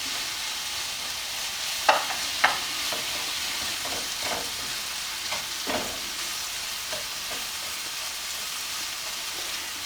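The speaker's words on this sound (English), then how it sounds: "I'm going to saute these up." Mushrooms sauteing with salt in a pan for a creamy chicken rice casserole: steady soft sizzling throughout, with a few sharp clinks of a utensil stirring and scraping the pan.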